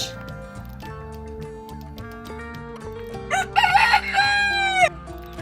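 A rooster crows once, loud and drawn out, over steady background music.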